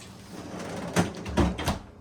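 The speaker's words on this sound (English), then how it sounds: "close the door please" A Whirlpool bottom-freezer refrigerator door is shut after a screw repair, with a few soft close-range thumps and a clunk around the middle of the short stretch, and no talk.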